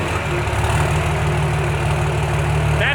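A Cummins diesel engine in a pickup truck idles through an exhaust stack with a steady, deep low rumble and rhythmic chugging, close and constant throughout.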